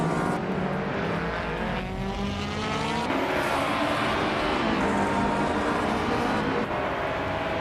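Opel Corsa race cars in a racing video game roar continuously at close range, engines droning and shifting pitch as they race, with faint tire squeal mixed into the steady loud noise.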